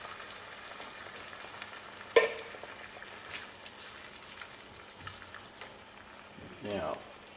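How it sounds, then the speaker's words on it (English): Canned tomatoes hit a hot pan of garlic and anchovies with a sharp sizzle, followed by quieter steady frying and a few stirring scrapes; a person talks faintly at moments. "we're going to go ahead and throw our canned tomatoes in there"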